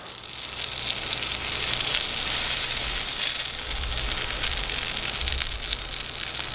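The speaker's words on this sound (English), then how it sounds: "we'll throw it on the big green egg cast iron griddle" Butter sizzling on a cast iron griddle set on a Big Green Egg, a loud, steady frying hiss that builds quickly and holds evenly throughout, with no voices.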